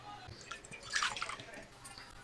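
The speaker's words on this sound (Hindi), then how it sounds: "जो सोडियम मेटल है वो बहुत तेज़ी से रिएक्ट कर रही है पानी के साथ" Sodium metal reacts rapidly with water in a lab, giving faint fizzing, crackling and drip-like liquid sounds that peak briefly, with a voice talking over them.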